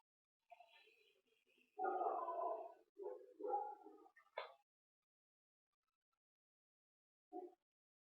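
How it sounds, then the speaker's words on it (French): Dogs barking and yipping at play indoors, short faint bursts spread across the clip with a gap before a last single yelp. "les aboiements, ne vous affolez pas, c'est mes toutous qui jouent."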